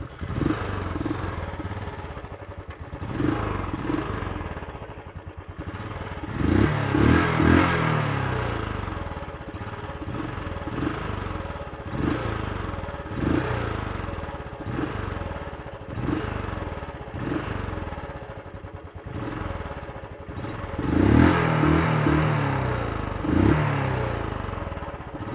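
Exhaust of a Royal Enfield Classic 350 BS6 motorcycle idling and being blipped, a steady thumping single-cylinder beat punctuated by repeated throttle revs that swell and fall, heard close with no talk.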